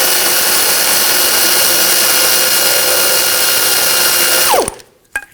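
A loud, steady whir of a power tool spinning off a nut from a BMW X5 front lower control arm, running continuously before winding down abruptly near the end, followed by a couple of brief clicks.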